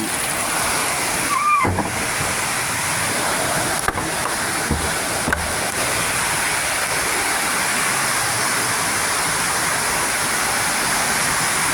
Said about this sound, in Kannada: ಆದರೆ ನೋಡಿ, ಭಾರಿ ದೊಡ್ಡ ಮಳೆ